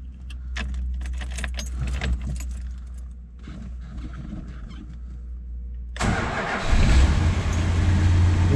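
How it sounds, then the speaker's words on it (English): Keys jingle for several seconds, then a 1962 Chrysler Imperial Crown Convertible's engine cranks and catches, settling into a loud, steady idle close by. "Vehicle starts right up, as you can see."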